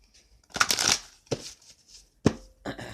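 Tarot cards shuffled by hand in a few short bursts of riffling and sliding, close and fairly crisp, with brief pauses between and no talking.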